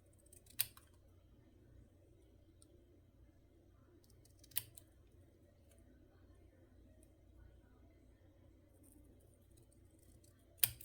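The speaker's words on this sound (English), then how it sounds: "So we'll cut out the 2 bits of cardboard with our scissors." Scissors snipping through cardboard during a craft project, heard as three sharp, brief cuts spaced several seconds apart over a quiet low hum, close and fairly faint.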